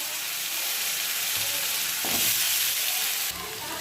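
Nigella seeds and vegetables fry in hot oil with a steady, close sizzle, followed by a brief louder burst of crackling partway through as more food hits the pan.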